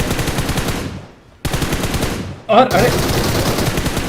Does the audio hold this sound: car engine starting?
no